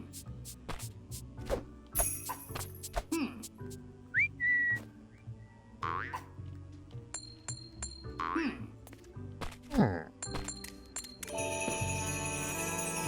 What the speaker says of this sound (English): Give Max a whistle.